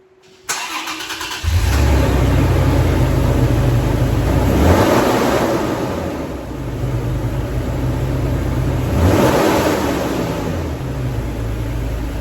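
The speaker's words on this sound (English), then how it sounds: "Both from a start, it is a cold start, and just a couple of revs." A Toyota Tacoma pickup engine cranks and catches on a cold start, settles into a loud rumbling idle, then revs up twice in brief surges before dropping back.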